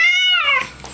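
A congested cat at the vet lets out one loud, close, drawn-out meow that rises and then trails off, with no other sound around it.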